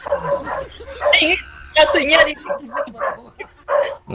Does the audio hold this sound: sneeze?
no